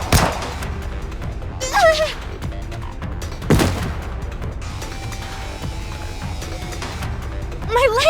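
Several sharp gunshot bursts in the video game Goddess of Victory: Nikke crack out at intervals, mixed with shouting voices and a busy background.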